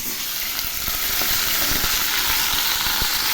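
Water lilies are dropped into hot oil in a wok with black cumin seeds and green chillies and fry in a loud, steady sizzle, with dense crackling and occasional spitting pops throughout.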